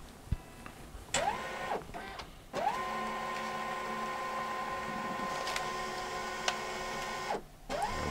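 A Brother printer feeds a document through its automatic document feeder during a two-sided scan, its motors whirring in a steady hum with rising start-up tones, clicks and brief pauses, close and fairly quiet.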